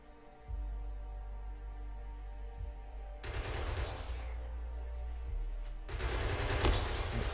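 Turret in Factorio loaded with basic ammo, firing in two sustained bursts of rapid gunfire over a steady low game hum, loud and close, with a short pause between.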